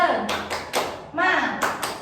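Rhythmic group clapping from a classroom of pupils doing a 'tepuk semangat' spirit clap, several sharp claps in a steady pattern mixed with voices chanting and talking.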